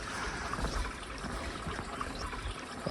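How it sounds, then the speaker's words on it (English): Water trickling underground beneath rocks along a dry stretch of trail, a soft continuous burble and dribble, faint and steady with no voices. "here I can clearly hear water underground"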